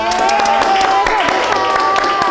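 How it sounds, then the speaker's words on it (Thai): A studio or event audience claps steadily for the guest Ming, and the applause stays loud and continuous. A voice and musical tones run over the crowd noise. "ขอเสียงปรบมือให้กับคุณมิ้งครับ"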